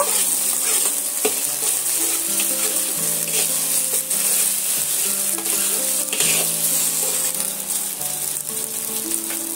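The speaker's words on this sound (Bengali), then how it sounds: "দিয়ে আমি পেঁয়াজের সঙ্গে আবারও ভালো করে কষিয়ে নেব" Poppy seed paste frying with onions in a pan for an egg posto dish, a steady close sizzle with continuous stirring, loud and unbroken, with no talk.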